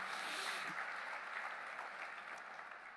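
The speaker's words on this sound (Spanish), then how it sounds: "Dele un fuerte aplauso." Applause from a church congregation, a steady dense wash of clapping that fills the whole stretch at moderate level, with a faint voice briefly audible.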